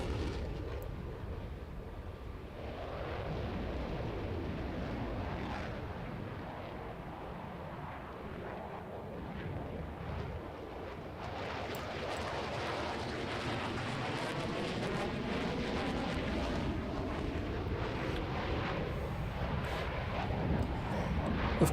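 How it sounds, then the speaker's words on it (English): An F-18 jet coming in to land in Roblox roars steadily at a distance, a broad rumbling engine wash that swells and grows louder toward the end, with no speech over it. "the F-18 is still going to show us its short landing capabilities"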